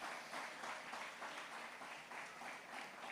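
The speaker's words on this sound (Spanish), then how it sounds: "Dele ofrenda de palmas al Señor." A church congregation applauding during a sermon on faithfulness, a sustained even clapping from the crowd with gentle pulsing swells, quiet and distant throughout.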